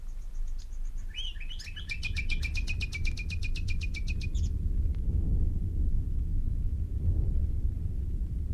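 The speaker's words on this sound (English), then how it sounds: "we heard the nightingales." A nightingale sings before dawn as a radio play sound effect: a brief burst of rapid repeated whistled notes near the start, then only a low rumbling background for the rest.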